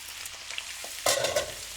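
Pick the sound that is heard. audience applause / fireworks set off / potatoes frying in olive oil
potatoes frying in olive oil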